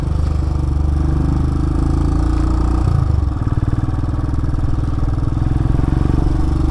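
A 2018 Royal Enfield Himalayan motorcycle on a test ride, its steady mid-pitched engine running loud and close throughout, with a brief shift in tone near the middle.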